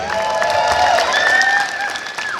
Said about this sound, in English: Give him another round of applause, guys.